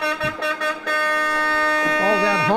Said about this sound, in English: All that honking is from the Browns Valley 4-H.